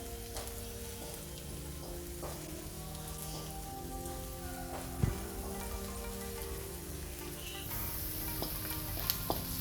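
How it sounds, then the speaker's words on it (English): Chopped onions sizzle in a hot pan for chilli paneer while being stirred, a constant crackling fry with occasional scraping knocks, heard up close with no talking. "Keep stirring the onions."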